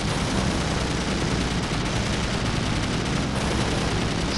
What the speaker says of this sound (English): Easy with the shooting now.